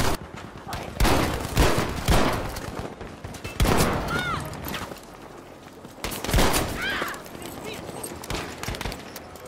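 Battlefield V shotgun gunfire, heard as sharp, loud repeated shots in bursts through the clip, with excited talk mixed in and hoofbeat-like thuds in the background.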